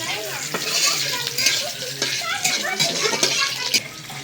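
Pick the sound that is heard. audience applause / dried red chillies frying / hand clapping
dried red chillies frying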